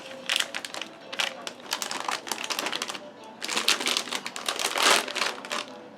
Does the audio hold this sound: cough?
no